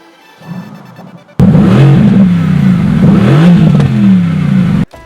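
A Mercedes AMG GT S engine cranks briefly, then fires with a sudden loud catch and settles into a close, rumbling run with a couple of throttle swells before cutting off abruptly.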